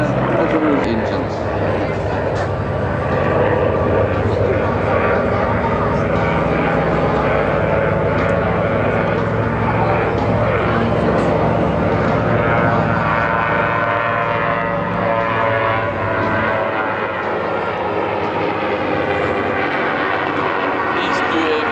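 Two civilian aircraft flying in formation at an airshow in Durban produce a loud, steady engine roar that holds for over twenty seconds with no break.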